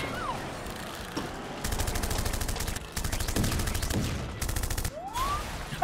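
Rapid bursts of automatic gunfire ring out in a video game, loud repeated volleys broken by short pauses and a few whistling sweeps.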